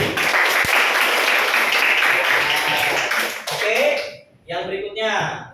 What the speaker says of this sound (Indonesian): Kita beri tepuk tangan kembali.